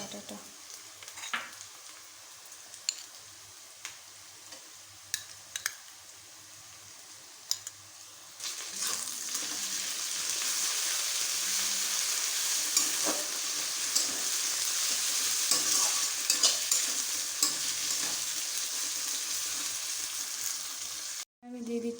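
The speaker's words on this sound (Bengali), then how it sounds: "এখানে আমার পেঁয়াজ লাল লাল করে ভাজা হয়ে গেছে। এবার আমি দিয়ে দেবো আদা রসুন বাটাটা।" Onions fried red-brown with ginger-garlic paste sizzle steadily in a pan while being stirred, for a jackfruit-and-prawn curry; the frying hiss grows fuller and louder partway through, with occasional scraping clicks, then cuts off near the end.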